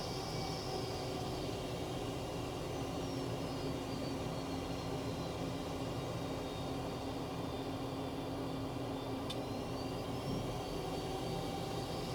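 An F-18 jet in Flight Simulator 2020 drones with a steady, broad engine roar and faint whining tones while buffeting in the jet stream, a constant rumbling wash throughout with no voices.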